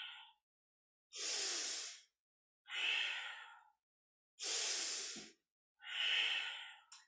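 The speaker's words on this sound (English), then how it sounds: "take that longer, slower, deeper breath" Deep, forceful breaths during a kundalini yoga Sufi grind, four long rushing inhales and exhales in a steady rhythm with short silent gaps between, close and clear with no talking.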